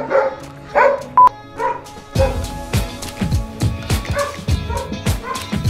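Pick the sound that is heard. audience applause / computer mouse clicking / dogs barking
dogs barking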